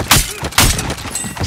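A rocket fired in Call of Duty: Modern Warfare, two sharp crashing blasts in quick succession with shattering debris, loud and close amid game noise.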